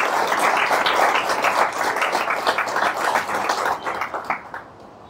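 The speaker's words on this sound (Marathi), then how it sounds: "त्यांच्यासाठी टाळ्या वाजवूया" Sustained applause from an audience welcoming a group of girls at a motivational talk, a dense wash of clapping that stays loud for several seconds and then thins out and fades near the end.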